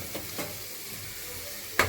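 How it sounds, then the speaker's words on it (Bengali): Spices frying in hot oil in a pan on a home stove give a steady, faint sizzle, with a couple of soft stirring scrapes and a sharper hiss near the end. "এখানে মশলাগুলো ভেজে নিচ্ছি"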